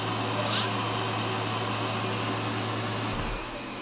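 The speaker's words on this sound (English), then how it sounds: "now it's time to dry some hair" A hair dryer whooshes in a steady, close blast while drying a child's hair after swim lessons, easing off slightly near the end.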